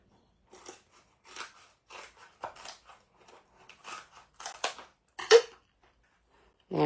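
Craft cardstock for a foliage greeting card being trimmed with scissors or a paper trimmer, a series of close, crisp snips and slicing strokes in an irregular rhythm, fairly quiet in an otherwise still room.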